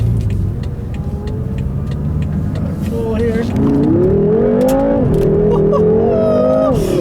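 The engine of a 2014 BMW M6 Gran Coupe rises in pitch as the car accelerates hard, loud and close inside the cabin, with someone speaking briefly over it.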